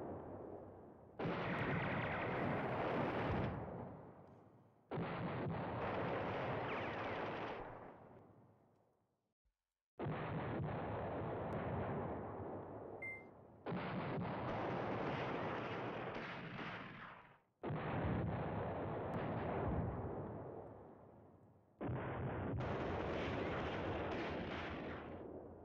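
Artillery fire in the Command Ops 2 war game, German and French forces near Hannut: six long, heavy roaring barrages, each several seconds, separated by brief gaps, loud and sustained with no voices.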